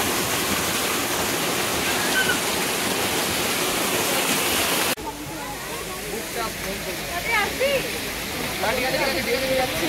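A waterfall in Darjeeling roars in a steady, loud broadband rush, with people talking nearby over the falling water in the second half.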